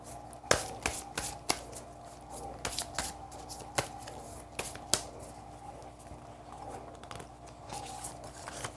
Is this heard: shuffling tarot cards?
yes